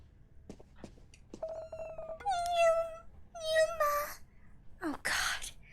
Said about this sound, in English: Meow. Oh my. Kitty cat, are you by yourself?